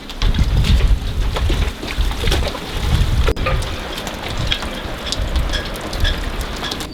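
Heavy storm rain drums steadily on the rear deck of a boat, a dense, continuous patter of drops with low rumbling gusts, close and loud, with no talk.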